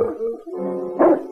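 A dog barks and yips in a few short, close bursts, the barking rising in pitch and loudness toward the end, during a chase around a house and back garden.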